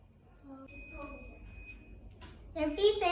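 A kitchen timer sounds a steady high electronic beep, fairly faint and sustained, before a voice speaks loudly at close range.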